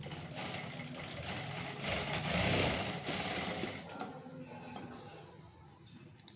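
A sewing machine runs steadily, stitching a folded pant hem with a reverse double stitch; the motor whir is loud and continuous for about four seconds, then drops to quieter handling clicks with a brief sharp tap near the end.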